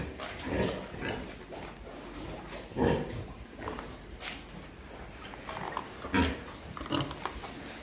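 A pig herd grunts and snorts in short, scattered bursts at moderate distance, irregular oinks rising over a quiet barn background without talk.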